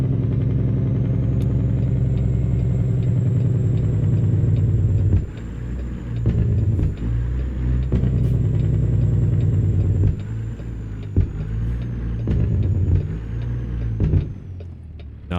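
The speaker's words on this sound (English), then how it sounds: "Let's use some more Jake brake." A truck's Jake brake roars steadily in American Truck Simulator while the rig runs downhill in Iowa. The deep engine rumble is loud and close, with a few brief dips and shifts before the roar tapers off at the end.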